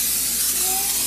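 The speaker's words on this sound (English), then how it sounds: "just cover the bottom with some sprayable, I mean this is like the off-brand, but yeah, just spray it" Off-brand cooking spray hisses in a continuous, loud burst into a hot skillet, heard up close as a steady airy spray across the whole moment.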